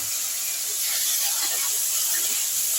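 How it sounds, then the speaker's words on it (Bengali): Washed, cut taro pieces frying in hot mustard oil seasoned with salt and turmeric give off a loud, continuous hiss, close and steady with faint crackles throughout. "কচুগুলো এবার আমি তেলের মধ্যে একটু লাল লাল করে ভেজে নেব।"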